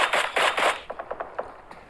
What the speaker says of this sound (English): Pika, they're getting a headshot onto Cryptix